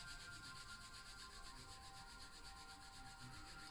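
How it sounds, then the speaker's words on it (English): Palms rubbing together quickly in prayer position during a yoga class, making a soft, steady swishing friction that runs unbroken and stays faint and close. "rubbing the hands nice and fast"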